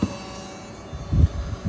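A main water pump on a hydroponic farm runs close by with a steady mechanical rumble, swelling louder for a moment near the end.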